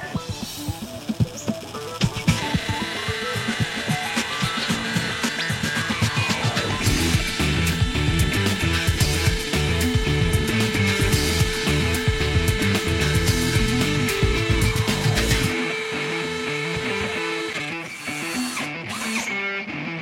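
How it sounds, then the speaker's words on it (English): A power drill bores through exterior stucco for about fifteen seconds, a loud, close, continuous grinding whine with rough scraping that stops abruptly near the end. "You only want to pre-drill till you've pierced the stucco."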